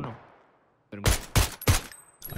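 PUBG battle royale gunfire: three sharp, loud, close shots in quick succession after a fading tail of an earlier shot, followed by the start of another burst.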